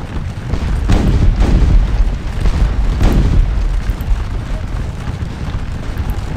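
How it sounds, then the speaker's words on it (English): Cannon fire on a Battle of Waterloo real-time strategy battlefield: heavy, rumbling booms, with a couple of sharper blasts early on, rolling over a dense, continuous low battle din. "Let's see what these cannons do for us"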